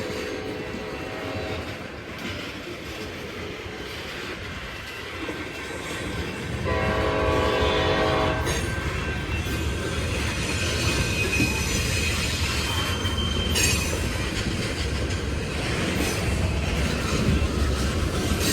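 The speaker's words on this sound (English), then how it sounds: "This is all ethanol, all tank cars." A Union Pacific freight train of ethanol tank cars rolls past near Hull Avenue Yard with a loud, continuous rumble and clatter of wheels on rail, punctuated by brief metallic squeals and a short horn-like tone.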